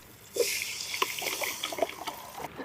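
Ground horse gram paste pours steadily into a cooking pot with a gurgling, splashing trickle, close by, with a few small clinks and drips along the way.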